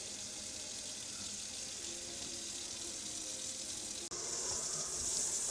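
Water gushes steadily from an RV faucet, first on the cold side, then a brief click as the handle turns to the hot side and the flow resumes slightly louder and hissier.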